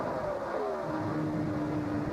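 Dennis Setzer's NASCAR Chevy Silverado race truck at the Texas 400K, its engine a loud, continuous roar heard from on board with a pitch that sweeps downward, no talk.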